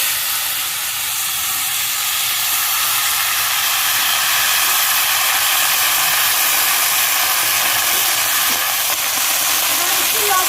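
Leafy greens hit hot oil already seasoned with bay leaf, dried red chilli and cumin seeds, producing a loud, continuous close-up sizzle that holds steady throughout.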